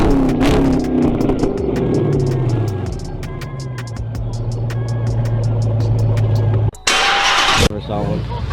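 A Hemi car engine fitted with Flowmaster exhaust and electric cutouts revs loudly up close, the roar rising and settling into a steady idle, with a sudden burst of noise near the end and people talking over it.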